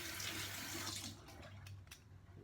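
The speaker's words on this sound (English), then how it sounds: "if you put it under warm water or if you put it under hot water" Warm tap water runs over a metal razor in a sink, a brief hissing splash that cuts off after about a second, leaving a few faint drips and clinks.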